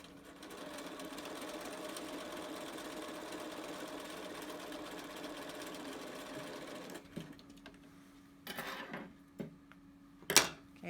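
A sewing machine stitches slowly around the curve of a fabric face mask, a soft, steady hum for about seven seconds, followed by brief handling clicks and knocks.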